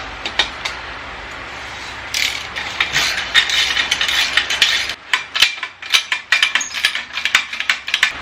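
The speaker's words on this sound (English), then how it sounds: "your cylinder bolts, they will be 1/2 inch too, so we're going to take those off with the ratchet" A ratchet loosens the half-inch cylinder bolts on a Harley-Davidson Ultra Classic, giving rapid clicking runs close up with a faint background hum. Then come sharper, sparser clicks and knocks as the bolts break free.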